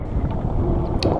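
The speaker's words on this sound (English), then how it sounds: "a 36 mile an hour gust came through." A 36 mph wind gust hits a small sailboat beating upwind on a starboard tack across a lake, a loud, close rushing roar of wind across the microphone lasting about a second, with a brief faint higher noise near the end.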